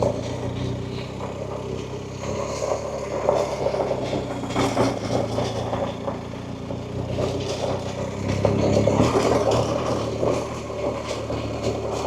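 A BMW R1250GS motorcycle cruises slowly in second gear on a trail up Santiago Peak, its engine a steady, continuous drone with wind rumble, swelling slightly near the end.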